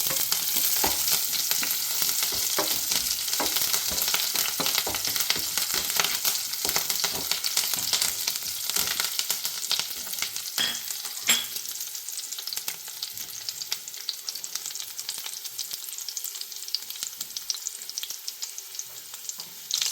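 Green chilies and curry leaves fry in a hot pan for lemon rice, a dense steady crackling sizzle with sharp spits and pops that holds close and loud throughout, easing slightly near the end.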